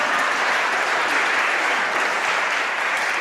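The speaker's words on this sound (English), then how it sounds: "Would you please just give that a clap?" Audience at a book festival in Tring claps after an author's remark, a dense, even burst of many hands applauding together for a few seconds without voices over it.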